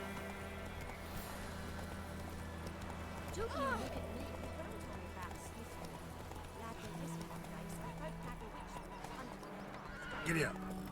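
A horse in the video game The Witcher 3 trots along with a steady clip-clop of hooves and neighs loudly twice, once early and once near the end, while speech runs underneath.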